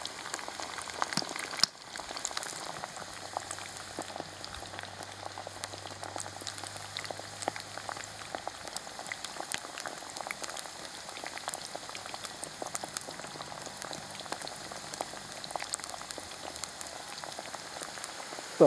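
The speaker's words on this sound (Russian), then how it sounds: "масло прогревается, картошечка начинает поджариваться." Potatoes frying in hot oil inside a 12-litre cast kazan, a steady dense crackle and sizzle with scattered pops, moderately loud and continuous over a low background hum.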